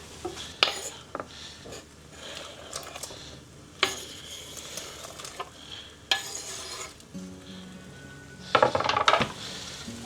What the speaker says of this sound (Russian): А также не забываем помешивать нашу зажарку